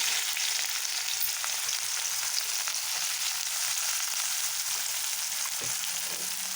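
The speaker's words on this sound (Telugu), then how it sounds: "ఆయిల్ మరిపోయింది కదండి ఇప్పుడు ఉల్లిపాయలు వేసుకుందాం పొగలు వచ్చేస్తుంది" Onions sizzling in hot, smoking oil for an egg dish, a steady, close, bright crackle and hiss with no voices, holding even throughout.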